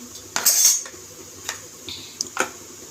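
Gulab jamun being placed into four serving cups, with a loud clatter of a spoon against dishware near the start followed by a few lighter clinks and taps, no talking.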